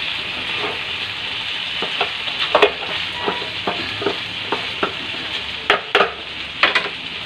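Vegetables go into a pot of boiled chicken with green chili over a steady sizzling hiss, punctuated by repeated scraping and clacking stir strokes, close and without talk.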